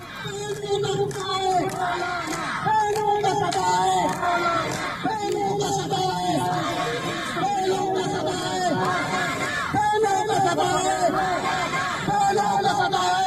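Women protesting in the streets of the port city of Gwadar, Pakistan, chant together in loud, rhythmic unison over the babble of a large crowd.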